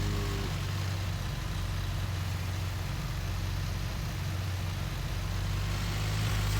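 Tractor engine driving in Farming Simulator 19: a constant, loud low-pitched drone that runs unbroken from start to end, with no talking.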